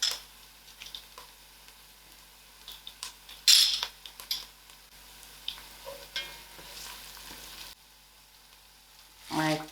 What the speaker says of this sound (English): Now I'll add in my masalas.